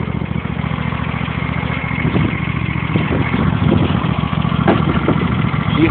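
An old engine cold-starting in spring runs with an uneven, sputtering idle, a steady close mechanical drone broken by irregular pops and stumbles throughout, with no talking.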